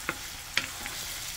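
Garlic sizzles in a pan while callaloo is cooked, a steady frying hiss with a few quick stirring scrapes, close and alone.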